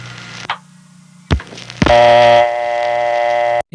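A 1970s Bronx crossbar telephone exchange line on a permanent signal holding trunk: clicks and clunks, a short low hum, then a loud steady buzzing tone that holds for over a second before cutting off.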